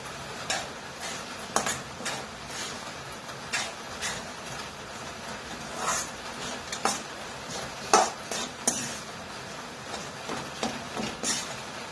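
Jaggery syrup for fasting barfi stirred in a pan over a low gas flame, repeated soft scraping strokes and occasional clinks at an irregular rhythm over a faint background hiss.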